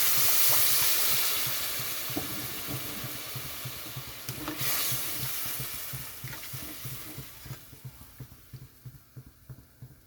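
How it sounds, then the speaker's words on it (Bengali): Water hits fried spice paste in a pan for a fish roe curry, setting off a loud, close hiss that slowly fades while rhythmic stirring scrapes grow clearer toward the end. No one speaks. "তো এখন আমি এখানে পরিমাণ মতন জল দিয়ে দিচ্ছি।"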